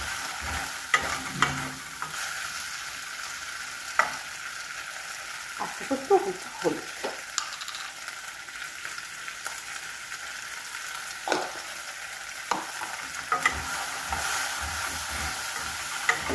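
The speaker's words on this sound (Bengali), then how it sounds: "ভেন্ডিগুলো একটু ভালো করে ভাজবো" Okra being fried in a pan with salt for a Bengali poppy-seed dish: a steady sizzling hiss broken by scattered stirring clatters and scrapes, with a voice talking briefly in the middle.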